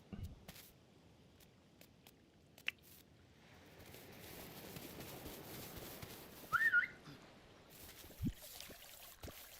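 Short whistled notes in the farming video game Dinkum, a brief bright burst rising over a soft ambient game background, heard once near the middle with faint clicks around it.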